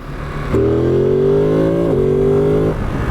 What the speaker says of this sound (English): it sounds so much better when you give it a ton of throttle